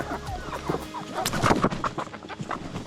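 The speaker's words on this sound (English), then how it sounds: "I love these chickens" Homestead chickens, white true blues among them, cluck and chatter in a busy overlapping flock, close to the listener, with sharp pecking taps and scuffs mixed in.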